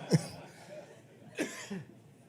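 Two short coughs, one at the start and another about a second later, with quiet room noise between them.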